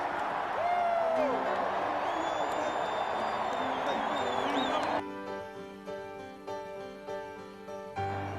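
A crowd of Tennessee Volunteers football fans cheers and whoops in a large stadium, a loud sustained roar that cuts off abruptly partway through, leaving quieter music-like tones.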